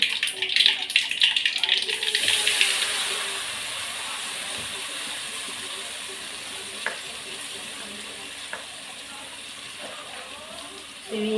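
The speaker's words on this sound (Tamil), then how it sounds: "கடுகு நல்லா பொடியுது" Mustard seeds hit hot oil in a pan with a loud crackling sizzle that fades over the first few seconds into a softer steady hiss, with a couple of isolated pops later.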